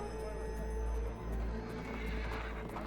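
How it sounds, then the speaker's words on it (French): Horses whinny and neigh at a Sunday-morning horse market in Karakol, Kyrgyzstan, with a loud close neigh over steady crowd and wind noise and faint hoof clip-clop. "nous sommes au marché aux chevaux de Caracol, au marché du dimanche matin"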